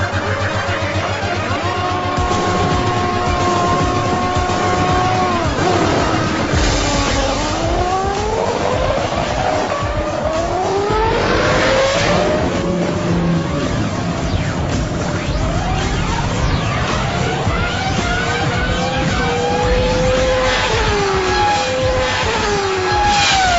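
An F1 car, a MotoGP motorcycle and a speedboat race over a quarter mile: loud, continuous high-pitched engine roar with repeated rising revs and gear changes, tire squeal and skidding, and engines sweeping past close by.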